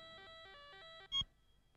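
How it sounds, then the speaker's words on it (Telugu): Mobile phone ringtone, a faint repeating electronic melody of short chimed notes, ending abruptly with a brief louder knock. "అమర్, నీ ఫోన్."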